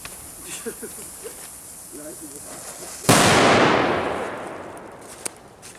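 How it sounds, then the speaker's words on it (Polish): Jumbo Color Whistling Thunder fireworks go off at a New Year's Eve celebration. A single sudden loud blast with a hissing, crackling tail fades over a few seconds, preceded by faint background voices and followed by a small pop. "Tu jest helium od komety i nowe Jumbo Color Whistling Thunder."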